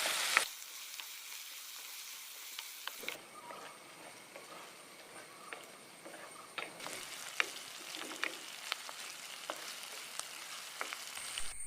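Onion, green chili, ginger and garlic fry in oil for a Kerala fish curry, a quiet, continuous sizzle broken by occasional ticks and stirring clicks, with no voices.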